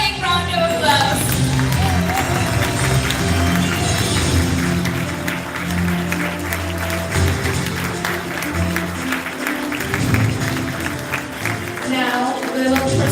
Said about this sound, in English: Ladies and gentlemen, to our heroes, please give them another big round of applause.